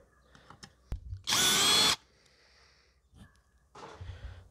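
Parkside Performance PBSPA 12 C3 drill-driver driving a screw: one loud, steady whir lasting under a second, framed by faint handling clicks and scrapes before and after.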